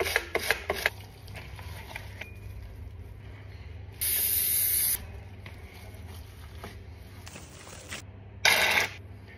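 Short hissing bursts of cooking oil spray, two distinct sprays a few seconds apart, loud and close, over quiet kitchen background with faint handling clatter, used while preparing spiced kofta for the oven.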